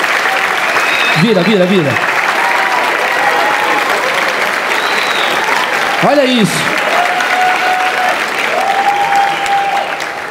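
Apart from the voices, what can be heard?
audience applause at stand-up comedy show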